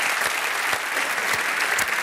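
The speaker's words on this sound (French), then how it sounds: "Applaudissons la chance" A dense, steady patch of applause from a crowd, continuous and fairly loud, with no talk over it.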